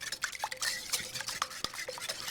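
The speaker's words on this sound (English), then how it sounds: "Whisk them up." Three eggs being whisked in a bowl for homemade donut batter: quick, irregular clicking strokes of a whisk against the bowl, close and fairly quiet, with no talking.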